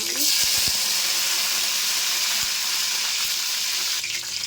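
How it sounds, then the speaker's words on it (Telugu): Curry leaves tossed into hot oil while cooking a Nellore-style mango fish curry give a loud, steady sizzle that lasts the whole stretch, with a few faint clinks near the start. "ఇప్పుడు కరేపాకు వేస్తున్నాను"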